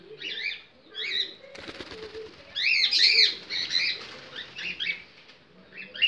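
A fantail pigeon takes flight in a quick flurry of wing flaps early on, surrounded by soft, repeated high chirping calls from birds nearby.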